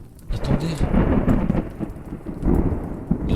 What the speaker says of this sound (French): L'orage, elle est en train de mettre le feu aux arbres.